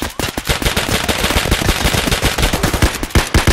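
Rapid automatic gunfire in the shooter game Escape from Tarkov on the Interchange map, a loud close burst of shots fired in quick succession that carries on without a break.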